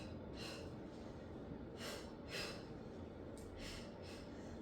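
Repeated sharp exhales during an ab workout with a weighted bar, a series of short breathy bursts in pairs over steady low background noise, fairly faint.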